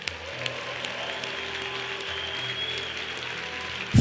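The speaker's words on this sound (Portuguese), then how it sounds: "dê um forte aplauso ao Senhor." Applause from a church congregation during a sermon, a steady wash of clapping at moderate volume that continues evenly over a low room rumble and ends in a louder thump.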